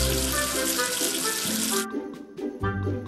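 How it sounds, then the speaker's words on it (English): Water runs from a tap to rinse soap off a number in a kids' educational counting game, a loud steady rush of hiss for nearly two seconds before it cuts off, followed by music and soft cartoon effects. "Wash away the soap with water."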